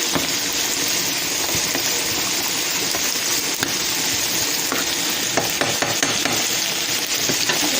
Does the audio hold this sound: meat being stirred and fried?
yes